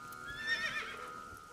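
A horse in the video game AI: The Somnium Files whinnies once, a short, fairly loud neigh near the middle over a faint steady hum, with no talk.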